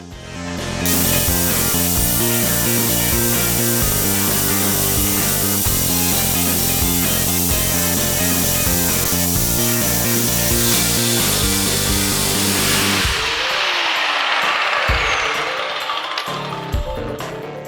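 Metal part for a caster wheel mount being cut with a power tool, a loud, steady grinding drone with a rapid pulsing rhythm that runs for about thirteen seconds, then winds down with scattered clatter.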